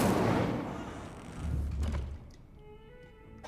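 An Incendio fire spell cast in Hogwarts Legacy lands as a heavy, loud whooshing burst followed by a deep thud. The burst fades into quieter game ambience with a faint tonal chime.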